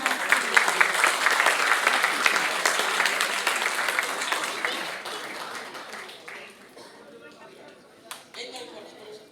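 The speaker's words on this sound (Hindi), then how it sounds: "जोरदार तालियां अजीत चौधरी साहब के लिए" Loud applause from a seminar audience at an agricultural company event in India, dense clapping for about five seconds that thins and fades out, with a brief late burst.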